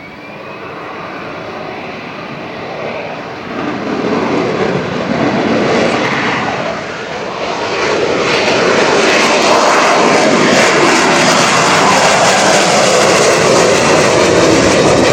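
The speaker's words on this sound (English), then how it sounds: "AV-8B Harrier II." A US Marine Corps AV-8B Harrier II jet flies over an airshow, its loud broadband engine roar swelling steadily and growing louder toward the end, with no talk.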